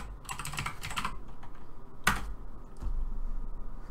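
Computer keyboard typing in two short bursts of rapid keystrokes, then a few isolated clicks, close and clear over a quiet room hum, with no speech.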